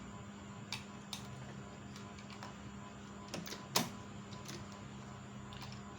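A Singer Computer 7900 sewing machine running a straight stitch, faint and close, with a low steady hum broken by scattered soft ticks and clicks and one sharper mechanical clack partway through.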